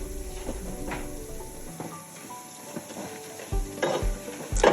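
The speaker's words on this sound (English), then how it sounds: "So at this point we're going to be adding our fresh herbs. We have some rosemary here and some fresh thyme." Fresh rosemary and thyme fry in a pan for Kenyan pilau rice, giving a close sizzle with stirring scrapes and a few louder bursts toward the end.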